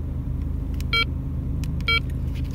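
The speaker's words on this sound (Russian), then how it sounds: "мы тестируем диктофон в машине при работающем моторе, кондиционере, стоя на месте" A car's engine idles while its air conditioner runs inside the parked vehicle, making a steady low hum and airy hiss. Two short electronic beeps sound about a second apart.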